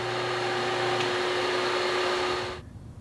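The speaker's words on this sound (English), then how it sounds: "Apparently, my bandsaw had other plans for the day and didn't want to make these cuts." Woodworking bandsaw running with a steady motor hum and whine, then abruptly cutting out near the end when its blade breaks, leaving quiet room noise.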